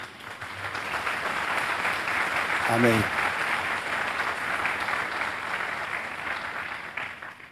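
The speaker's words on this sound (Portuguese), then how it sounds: "Vamos aplaudir Jesus por isso." A church congregation breaks into sustained applause that fills the whole stretch, with a voice speaking briefly over the clapping.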